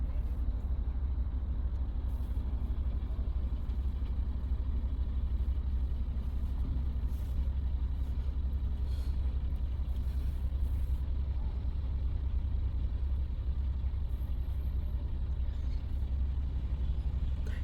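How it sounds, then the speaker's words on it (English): A large bus in city street traffic produces a steady low engine rumble with broadband road noise, continuous and fairly close throughout, with traffic sounds around and faint voices in the background. "The bus literally takes up 2 flipping lanes."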